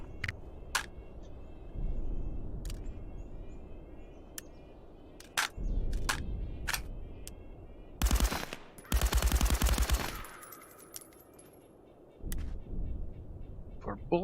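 Suppressed gunfire in the Contractors VR video game, a bullpup rifle fitted with a Cobra suppressor, with sharp shots spaced irregularly, some in quick bursts, and louder dense clusters in the middle of the clip.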